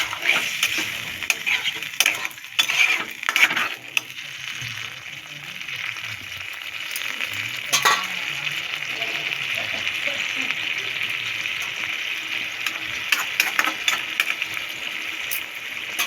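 Chicken bone curry simmers in a pan with a little water just added, giving a steady close sizzling hiss with scattered soft clicks and brief stirring scrapes throughout.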